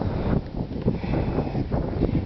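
Strong outdoor wind gusts buffet a microphone in a loud rumbling roar that surges and eases in waves over a couple of seconds.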